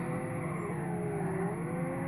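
A 2005 Subaru WRX STI with four-wheel drive races in Gran Turismo 5, its engine a steady, loud, sustained drone with a high whine and no pauses or gaps.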